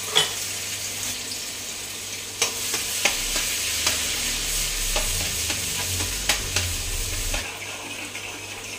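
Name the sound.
minced garlic and shallots sizzling while stir-frying in a pan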